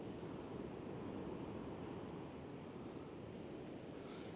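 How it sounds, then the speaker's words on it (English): Ocean surf breaks below the cliffs near Start Point Lighthouse in Devon, a steady, broad roar with wind noise buffeting the microphone and no voices. "There's some cracking waves down there."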